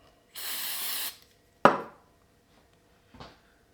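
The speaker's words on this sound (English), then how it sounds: "Spray this one." A short hiss of spray from a can on a pallet-wood drawer lasts under a second, followed by a sharp clack and a fainter knock, with quiet between.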